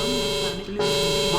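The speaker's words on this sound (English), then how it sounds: "I've shut the alarm off." An alarm buzzer in the video game Entropia sounds as a loud, harsh, sustained electronic tone, cutting out briefly midway before resuming.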